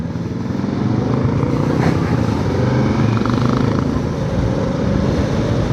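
A 2021 Kawasaki Versys 650 motorcycle rides along a road, its engine a loud, steady, close drone with wind rush. The revs change only slightly and no distinct gear shift stands out.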